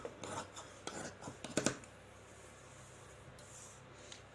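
Scissors cutting petticoat fabric along a marked line, a quiet close run of short rasping snips in quick succession, then near silence.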